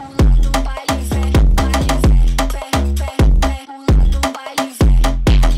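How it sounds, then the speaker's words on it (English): Loud Brazilian funk drum pattern with deep booming kicks and punchy syncopated hits landing on offbeats, repeating steadily alongside tonal bass, with no voices. "then we have Brazilian funk."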